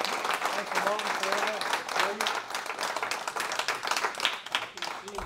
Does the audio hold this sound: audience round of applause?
yes